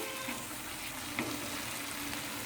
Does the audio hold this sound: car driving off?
no